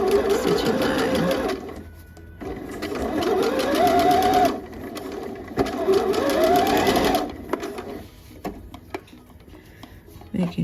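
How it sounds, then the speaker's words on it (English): Loud, close sewing machine runs stitching a seam on a garment top, a fast whirring chatter with a rising motor pitch. Two long bursts are separated by pauses, then lighter, intermittent stitching follows. "just keep that presser foot lined up with your stitching line"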